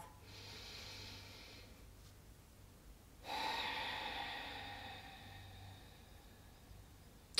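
A slow, deep breath is drawn in audibly with a soft airy hiss, then released in a longer, fuller exhale, close and quiet against a faint background hum.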